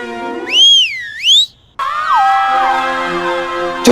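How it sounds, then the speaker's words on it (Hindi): A loud whistle is blown at the start of a footrace in a comedy drama scene, first as two rising and falling tones, then a long steady shrill blast. "लेकिन सीटी बजाने के बाद ही भागना है।"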